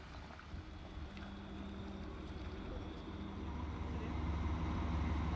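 A tour boat moves slowly through the water among skerries near Karlskrona, giving a steady low engine rumble with water wash and wind noise that grows slightly louder over the stretch.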